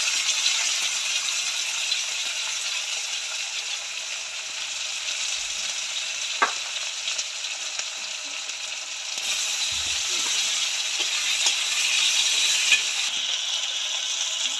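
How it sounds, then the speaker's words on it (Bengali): Potatoes, onions and green chillies frying in hot oil in a pan for a small-fish curry, with a steady loud sizzle throughout and occasional scraping clicks of stirring, no talk. "আলুটা ভাজা ভাজা হয়ে গেছে"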